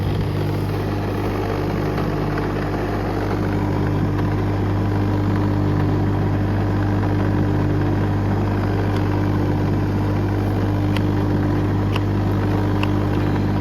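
A Karcher pressure washer runs with a suction hose drawing in water, producing a loud, steady motor hum and drone that holds unchanged throughout, with no voices.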